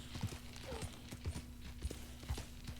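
Horse hooves in Red Dead Redemption 2, a steady clip-clop of a ridden horse trotting at moderate distance, fairly quiet with faint voices underneath.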